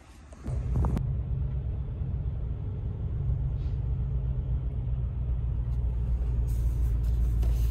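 A truck pulling an empty drag-boat trailer starts off with a brief rattle, then settles into a loud, steady low engine rumble and road drone, heard alone without talk.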